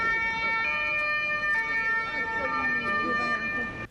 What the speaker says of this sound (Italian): Il suono delle sirene ne precede l'arrivo.